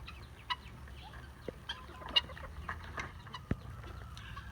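A Cedar Hill Marans hen clucks softly in a straw-lined coop by the nesting boxes, making faint, irregular calls over a low, steady background.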